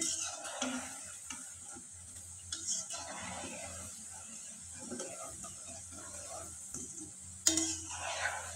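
Potato laddus deep-frying in hot oil, a soft continuous sizzle with faint bubbling and occasional light clicks, quiet and steady throughout, with a brief sharper clatter near the end.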